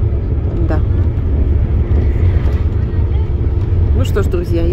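Steady road noise from a car driving the road from Tbilisi to Sighnaghi, with a continuous low engine and tire rumble inside the cabin and someone talking briefly near the end.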